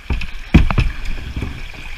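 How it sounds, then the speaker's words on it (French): Kayak running small river rapids strewn with large rocks, splashing and paddle knocks over steady rushing water, with a couple of louder bursts early on. "On va continuer de descendre la rivière, donc avec des petits rapides comme ça"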